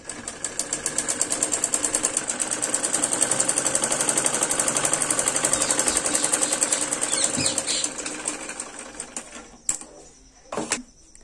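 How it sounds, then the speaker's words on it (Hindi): A sewing machine runs a rapid, steady stitching rattle through salwar fabric for about eight seconds, then stops, leaving a few short handling clicks and thumps. "अब इसके ऊपर भी हमें दबाने वाली सिलाई लगानी है।"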